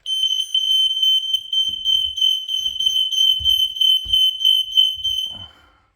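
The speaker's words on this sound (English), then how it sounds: "Smoke alarm's up." A newly installed smoke alarm sounds during a test, a piercing continuous high electronic shriek for about five seconds, very loud and near, with faint handling knocks beneath before it cuts out.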